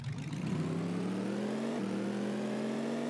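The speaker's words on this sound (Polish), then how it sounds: "Ciekawy dźwięk samochodu, nie spodziewałem się," A Twin Mill III car in a video game revs its engine, a loud droning whine whose pitch climbs steadily as it accelerates, heard alone without talk.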